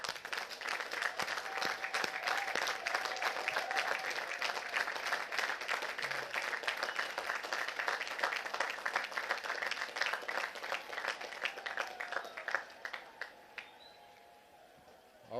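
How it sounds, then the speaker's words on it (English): A graduating class at the 2017 United States Military Academy ceremony applauds their families and friends in a long, dense roar of clapping that gradually thins and fades out, with faint bird chirps in the open air. "would you please stand and join me for a huge round of applause for your family and your friends here today"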